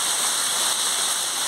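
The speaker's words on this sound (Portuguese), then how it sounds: "Está com 20 minutos de chuva aqui." Steady, heavy rain falls in Guadalupe, Piauí, in Brazil's Northeast, a dense continuous hiss with no pauses and no voices.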